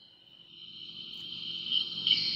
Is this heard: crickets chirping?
yes